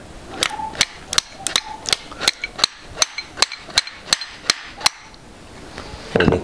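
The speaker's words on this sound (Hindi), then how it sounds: "उसके बाद हैमर से हमें मारना होता है।" Hammer blows driving a brake pad retaining pin out of a Royal Enfield motorcycle disc brake caliper, a fast series of about a dozen sharp, loud metallic strikes in a steady rhythm, then a brief rustle.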